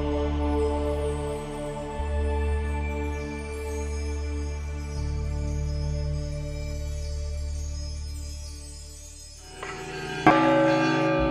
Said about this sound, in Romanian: dangătul clopotelor a răsunat peste împrejurim mai deosebit ca în alte zile